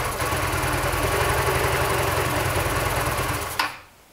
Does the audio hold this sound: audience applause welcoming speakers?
no